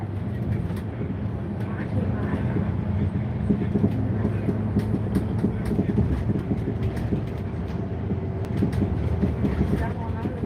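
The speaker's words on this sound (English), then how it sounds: "Now I have to go to the tram." A Vienna tram rumbles along at close range, a steady loud low rolling drone with faint rattles and clicks throughout, no clear words spoken.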